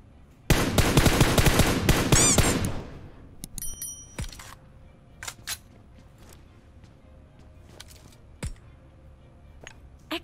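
Dense automatic gunfire in PUBG Mobile, a loud sustained burst lasting about two seconds, followed by scattered single shots and sharp clinks spaced out over quieter background, with no voices.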